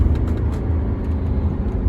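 A BMW 3 Series GT with a 2.0-litre turbo diesel cruising around 2000 rpm, heard as a steady low engine and road drone from inside the cabin, with no talking.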